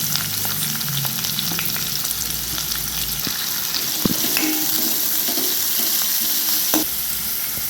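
Chopped onion with salt and green chilli sizzles steadily in a hot pan for momo filling, a dense continuous frying hiss with occasional stirring scrapes and clicks, close and alone.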